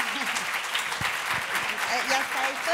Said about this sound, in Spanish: un fuerte aplauso para Gaynor.